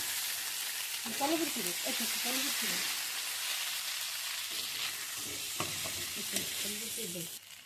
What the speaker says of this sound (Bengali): নুডলস দিয়ে দিব। সিদ্ধ করা ছিল সেটা দিয়ে দিচ্ছি। আস্তে আস্তে নেড়ে দেবো যাতে না হয়।